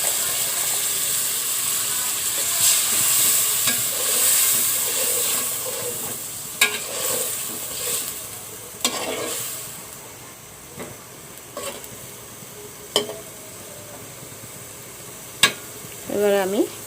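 Ginger, garlic, ground coriander and turmeric fry in a pan, a low steady sizzle broken by intermittent scraping and clacking stirs, with a brief voice near the end.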